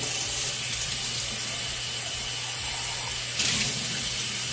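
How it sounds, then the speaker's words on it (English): Running tap water steadily rinses the cavity of a raw whole chicken at a kitchen sink, a continuous close hiss and splash with a brief louder surge near the end. "And then we're just going to rinse the cavity."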